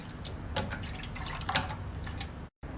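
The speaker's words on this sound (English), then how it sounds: "Then the water will come out from the machine." Water flows out of the outlet tube of a fractional CO2 laser machine as a faint trickle, with a few distinct drips and splashes heard up close.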